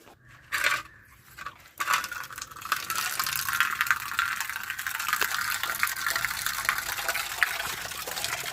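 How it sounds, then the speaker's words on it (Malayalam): Water gushing from a tap into a container for mixing cement in a home kitchen repair, a steady close rush after a few brief knocks at the start. "വെയിറ്റ് ചെയ്യേ, കുറച്ചൊന്ന് വെള്ളം എടുക്കാം."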